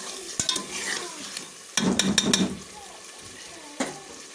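Meat sizzles and fries in a pot while being stirred, with scraping utensil clatter in short bursts and a soft hiss between, close up.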